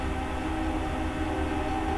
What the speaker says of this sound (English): when you know a train would come through at the same time I'm recording